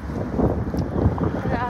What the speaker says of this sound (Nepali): र आज धेरै नै हावा चलेको छ।